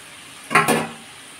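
Chicken drops into a pan of spiced, softened potatoes for a chicken curry, a brief clattering scrape and burst of sizzle over a low steady frying hiss, close and moderately loud.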